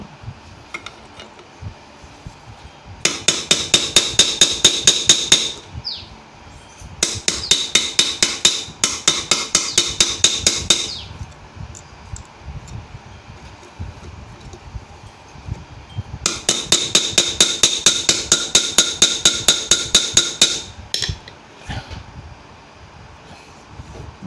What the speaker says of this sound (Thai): เดี๋ยวเราเราตีอีกครั้งหนึ่งครับ